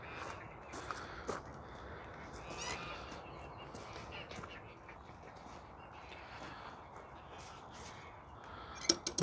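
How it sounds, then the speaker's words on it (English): Geese in the grounds of an Orthodox church in North Benfleet, Essex, giving repeated honks and cackles from a noisy flock, some calls closer and louder, with a couple of sharp peaks near the end. "because there's a lot of geese here."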